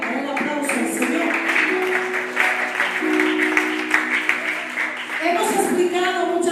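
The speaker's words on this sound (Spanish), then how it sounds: "Dale el aplauso al Señor." A church congregation at a Pentecost service applauds together, a dense, sustained wash of clapping that runs for several seconds under a voice speaking over it.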